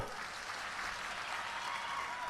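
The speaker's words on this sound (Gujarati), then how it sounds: "અરવિંદ કેજરીવાલજી માટે એકવાર તાળીઓ થઈ જાય મિત્રો" A crowd at an Aam Aadmi Party gathering in Vadodara applauds Arvind Kejriwal with steady, even clapping that sounds somewhat distant and fills the whole moment without pause.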